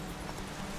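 Hooves of Roach, the horse in The Witcher 3: Wild Hunt on Nintendo Switch, clopping in a brief steady rhythm at a moderate, fairly even level with no talk over them.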